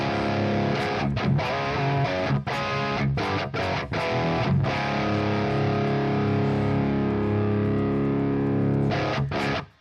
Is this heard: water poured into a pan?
no